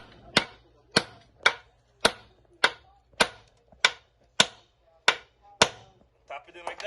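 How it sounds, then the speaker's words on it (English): Sharp metallic hammer strikes on a twist socket driven onto a car wheel lock, about eleven evenly spaced blows at a steady rhythm, loud and close, with brief ringing after each hit. "we just hit the hammer right here"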